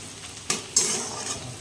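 Oil sizzling in a pan with a few sharp bursts as onions and green chillies are stirred while frying for chow mein, close by with no voices.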